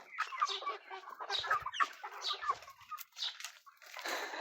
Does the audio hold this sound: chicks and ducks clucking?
yes